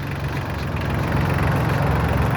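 A Solis 26 mini tractor engine runs steadily in low gear, a close, loud, even diesel drone with a slight rise in intensity partway through and no talking.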